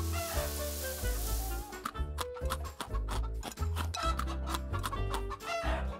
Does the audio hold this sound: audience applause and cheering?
no